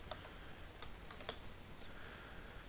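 Light, scattered clicks of typing on a computer keyboard, a few sparse keystrokes heard faintly over a steady background hiss with no talking.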